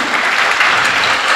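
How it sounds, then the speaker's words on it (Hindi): An audience claps steadily and loudly at a religious ceremony in an Indian town, a brief burst of dense, continuous applause with no voices over it. "अरे ताली तो बजाओ, ताली जैसी।"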